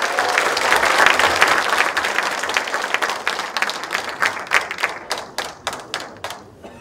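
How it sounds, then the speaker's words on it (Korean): An audience at a Korean political party's national members' convention in Busan applauds loudly, a dense roar of clapping that thins into scattered individual claps and fades away. "후보께 다시 한번 뜨거운 박수 부탁드립니다"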